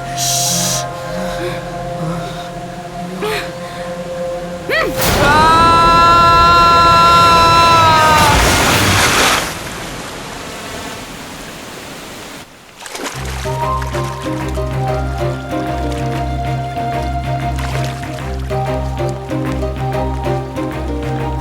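Someone is pushed into water: a loud, churning splash and sloshing burst surges for several seconds midway, framed by a music score before and after.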